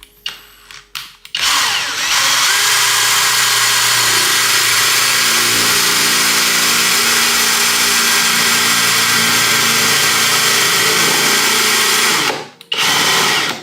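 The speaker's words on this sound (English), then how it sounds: "So let's start drilling." A power drill whirs steadily and loudly for about ten seconds, starting and stopping abruptly, with a grinding edge as the bit bites into the metal head of a screw hidden under a wooden dowel plug in furniture.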